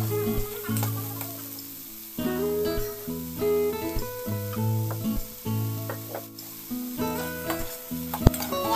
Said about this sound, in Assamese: অলপমান ভাজিম বেছি ভাজি থকাৰ তাৰপিছত কোনো প্ৰয়োজন নাই